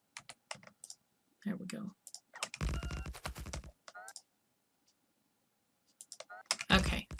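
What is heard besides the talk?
computer keyboard and mouse clicking while playing Factorio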